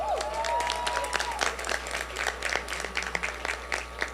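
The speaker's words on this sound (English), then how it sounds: "Can we get a round of applause for them?" Applause from a crowd at a university homecoming bonfire, steady scattered clapping at moderate distance that holds for several seconds, with a brief voice at the start.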